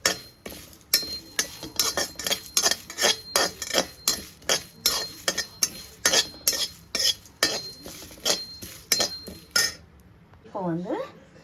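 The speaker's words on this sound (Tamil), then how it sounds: "அதையும் சேர்த்துட்டு நல்லா வறுத்து எடுத்துக்கணும்" Spices dry-roasted in a pan for Chettinad masala, with a regular rhythm of rasping scrapes as a spatula stirs them, roughly one stroke per half second, ending in a brief voice.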